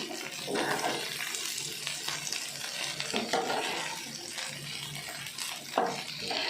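Potato slices frying in oil while being stirred, a dense bubbling sizzle with intermittent scraping and tossing sounds at close range.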